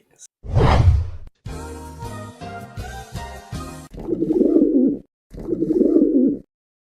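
A pigeon coos as an inserted sound effect, with several rhythmic throaty coos and a swooshing burst before them, loud and alone.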